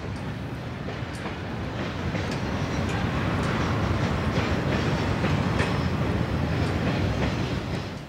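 CSX freight train Q544, hauling a consist that includes cut pulpwood, departs in 2001 with a steady rumble and rhythmic wheel clatter over the rails, building slightly louder then easing, with no voices.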